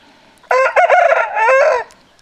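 An Aseel rooster on a breeding farm crows loudly and close by in two long drawn-out calls, with a brief pause between them and quiet surroundings before and after.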